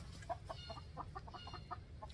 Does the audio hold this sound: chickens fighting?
yes